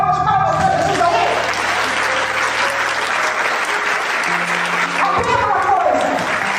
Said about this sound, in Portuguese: Alguém pode dar uma salva de palmas para Jesus aí?